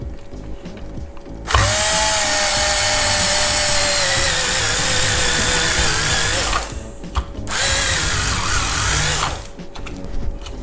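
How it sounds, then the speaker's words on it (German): A drill with a 10 mm bit bores out plastic rivets on a BMW 3 Series E36 instrument cluster, a loud close whine running for several seconds, pausing briefly, then running again before stopping. "Das mache ich hier einfach mit einem 10er Bohrer."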